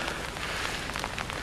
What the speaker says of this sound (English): Rain gear, it's raining hard.